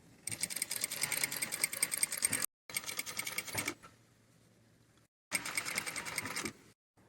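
A sewing machine stitches bias binding onto a sleeve in fast, close, rattling bursts, running in two long runs separated by a short pause, then a quiet stretch, then a final run.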